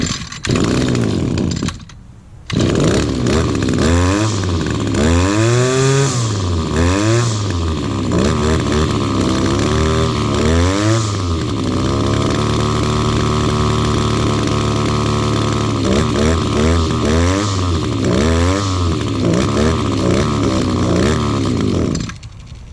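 A small two-stroke engine on Echo or Stihl outdoor power equipment buzzes loudly, cutting out briefly near the start, then restarting and repeatedly revving up and down in rising and falling whines, close by with no talking.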